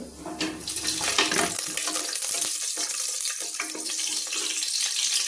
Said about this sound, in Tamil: அந்த ஸ்பைசஸ் எல்லாம் ஆயிலில் பொரிஞ்சதுக்கப்புறமா நம்ம க்ரீன் சில்லி 2